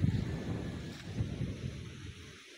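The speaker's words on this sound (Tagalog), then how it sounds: "sobrang lakas po ng hangin" Strong wind roars and buffets the microphone in a steady, heavy rumble, with gusty swells throughout, at a pigeon race in Lucban, Quezon.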